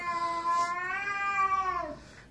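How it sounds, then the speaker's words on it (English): An agitated cat on a stairway gives a loud, close, drawn-out yowl of about two seconds that wavers and then drops away, with a faint breathy hiss at the start and no voices. "the cat is hissing at me"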